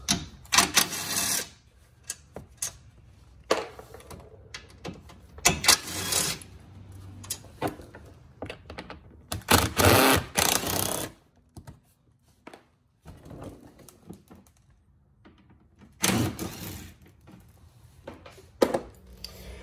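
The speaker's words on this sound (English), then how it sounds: "So I'm going to start with removing those bolts first." Three center bolts come out of a Fiat 500 Abarth during a front-mount intercooler install, driven by a T27 Torx bit socket. Close, rasping ratchet bursts and metallic clicks arrive in several separate spurts with quiet gaps between them.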